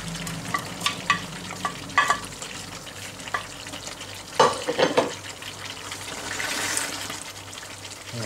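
Vegetables and onions sizzle in green curry sauce for a Thai green curry while a spoon stirs them, with scraping clatters and bursts of frying over a continuous hiss.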